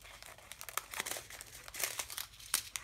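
Thin plastic sachets of diamond painting beads crinkle and snip as they are cut open, a close, quiet run of crisp crackles and small sharp clicks with no talking.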